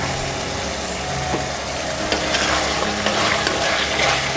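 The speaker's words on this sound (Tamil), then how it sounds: "நல்லா மிக்ஸ் பண்ணி விட்டுக்கோங்க." Vermicelli chicken biryani is stirred in a pan over a continuous loud sizzle and low hum, with occasional soft scrapes of the spoon through the mix.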